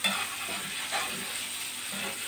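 Steady sizzling and crackling of oil as fish fries in a hot pan on a gas stove, with soft spatters popping throughout, close up.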